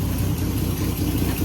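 A 1949 Plymouth P15 engine idling while parked, a steady low rumble with even pulsing and no revving, close and continuous with no voices.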